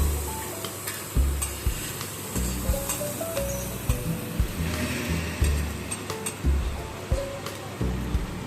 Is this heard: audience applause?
no